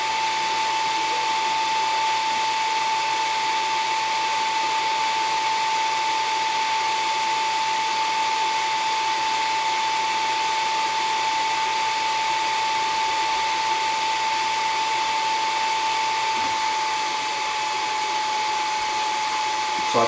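An xTool D1 Pro infrared laser engraving stainless steel produces a continuous, even electronic whine with a steady high tone, holding unchanged and fairly loud for the full stretch with no talk.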